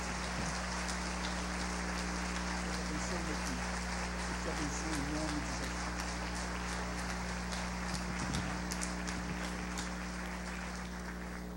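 Applause fills a church congress hall, a dense, continuous patter of many hands clapping for the evening's speaker, with a low steady hum underneath and faint voices mixed in.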